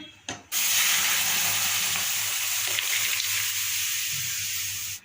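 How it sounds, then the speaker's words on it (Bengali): Hot spice tempering poured into dal bursts into a loud, sustained hissing sizzle that starts abruptly after a brief clatter and holds steady for several seconds before cutting off, close and without talk. "দিয়ে দিচ্ছি সম্বর বিস্ফোরণ হবে"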